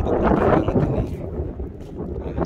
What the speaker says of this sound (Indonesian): Dan anginnya cukup kencang banget ini.